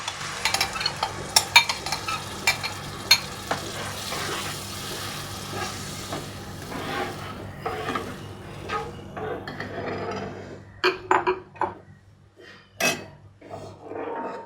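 Boiled, lightly crushed mixed dal tipped into frying masala for stuffed dal baati, with a soft sizzle under scraping and stirring strokes of a spoon in the pan, irregular clinks and scrapes growing sharper near the end.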